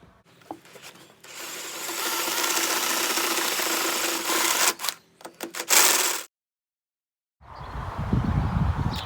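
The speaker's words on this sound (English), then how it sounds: "Open them up out to 8mm using a set drill." A step drill bit bores an 8mm hole into a Nissan GQ Patrol Y60's metal body with a steady grinding whir, pausing and restarting in short bursts, then silence before a rumbling noise returns.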